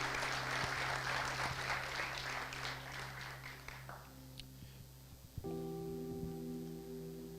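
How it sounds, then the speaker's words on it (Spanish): Church congregation applause during a Spanish-language worship service, a broad wash of clapping that fades after about four seconds, leaving sustained organ-like tones and a faint voice. "le podemos brindar un fuerte aplauso a nuestro Dios"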